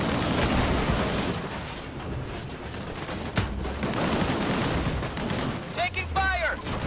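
Rapid gunfire during a firefight in the video game Disintegration, a dense, continuous barrage with scattered sharper shots near and far, mixed with game effects and a brief whistling tone near the end.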